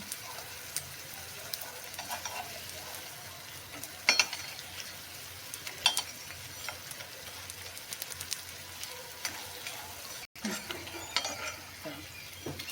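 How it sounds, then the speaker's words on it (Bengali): Continuous soft sizzling of food frying in a pan, with occasional clinks and scrapes of a utensil turning the pieces, fairly quiet and steady. "এবার বড়িগুলো উল্টে পাল্টে আস্তে আস্তে ভেজে নেব।"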